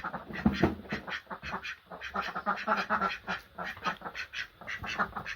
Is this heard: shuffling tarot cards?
no